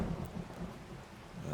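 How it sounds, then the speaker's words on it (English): Steady rain with a low rumble of thunder during a thunderstorm in the survival video game 7 Days to Die, a soft continuous wash at moderate level with no talk. "That lightning is almost like real lightning."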